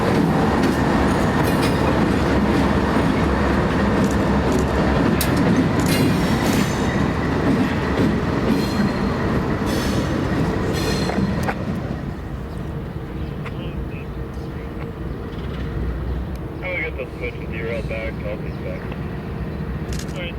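CPKC ET44AC and BNSF Dash 9 diesel locomotives roll past in Portage, Wisconsin, a loud, steady rumble with clattering wheels that eases after about twelve seconds into a quieter train roll, with some voice in the background.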